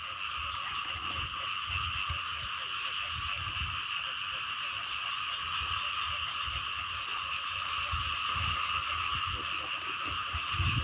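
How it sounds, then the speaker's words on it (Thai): Frogs croak in a dense, continuous chorus at a rain-filled wet field, a steady high trilling drone layered with lower pulsing croaks throughout, fairly close and loud with no talk. "ฟังเสียงเขียดเสียงกบ"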